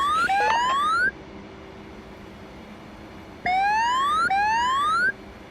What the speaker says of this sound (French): Cette alarme là.